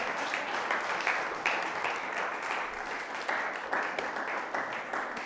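Church congregation applauding together at a Sunday service, steady dense clapping from many hands with a few louder bursts, filling the room continuously without speech.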